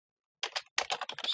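Someone types on a computer keyboard, the close keys clicking in quick bursts after a short silence.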